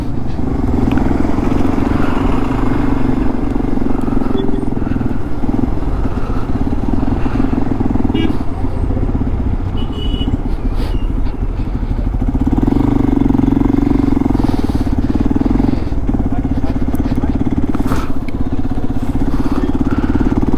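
Motorcycle engines rumble steadily throughout, with idling and revving swells from several bikes close by, a continuous loud drone on an open mountain road at Kallatti.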